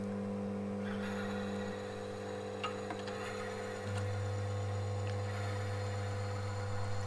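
A friction test machine runs an oil test on Blanche Céramique lubricant, giving off a steady, fairly quiet motor hum with faint ticks. The drone shifts to a lower, stronger tone partway through.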